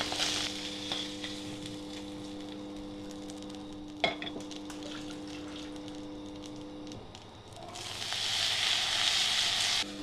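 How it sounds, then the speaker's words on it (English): Carrots and peas frying in a pan give a steady soft sizzle under a constant background hum, with a brief clink near the middle and a louder, brighter hiss of frying swelling toward the end. "Some carrots and some peas, which we are also going to fry a little"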